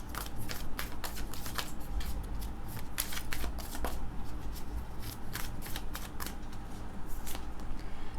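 Tarot cards are shuffled by hand in rapid, crisp riffles and flicks that repeat steadily, close and fairly quiet, with no voices.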